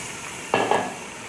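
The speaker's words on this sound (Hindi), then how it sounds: "अब हम चनों के साथ इसकी अच्छी तरह भुनाई करेंगे।" Chickpeas stirred and fried in spiced oil in a pan: a couple of sharp scraping stirs over a soft background sizzle, close and clear with no talk.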